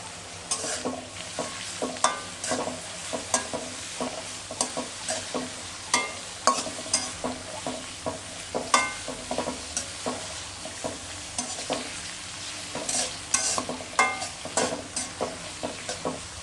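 Garam masala and bay leaves are stirred in a hot cooking pot, a rhythmic series of close spoon scrapes and clinks over a continuous sizzle, with no talking.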